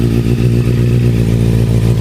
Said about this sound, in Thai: ขออนุญาตกดสตาร์ทครับตัวนี้นะครับ สตาร์ททีเดียวติดนะครับ